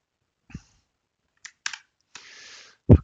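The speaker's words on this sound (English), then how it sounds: "I will type the command in here." Keys tapped on a computer keyboard while entering a command, heard as a few sparse, close clicks and one short run of rapid keystrokes, ending in a heavier thump, with no talking.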